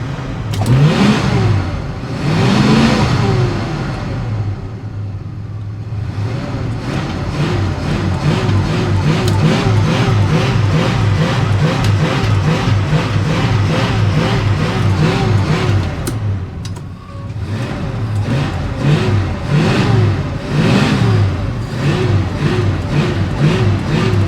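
A 1966 Ford station wagon's engine revs up hard again and again as the car tries to move and immediately stops. The loud, rising and falling revving continues for over twenty seconds with only brief dips.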